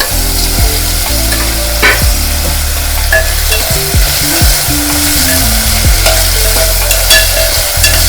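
Potatoes fry and sizzle steadily in a hot pan for an onion-potato curry, with the scrape and clatter of a spoon stirring them repeatedly throughout, close and fairly loud.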